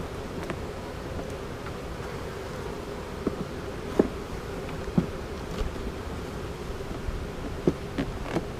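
A steady, dense hum of many honeybees buzzing close by in an opened hive as frames are pulled, with occasional louder individual bees passing near and faint clicks.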